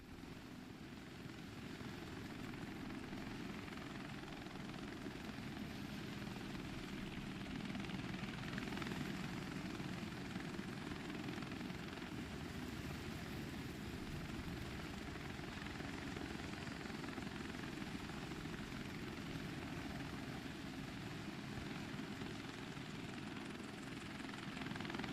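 Helicopter rotor and turbine drone from a military video game, a loud, steady whirring roar that stays constant and unbroken throughout, with no talk over it.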